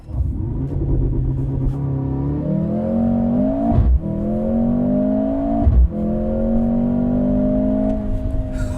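A 2025 Mercedes GLC 43 AMG engine revs up through rising gear pulls, with brief dips at shifts, loud and close against steady road rumble.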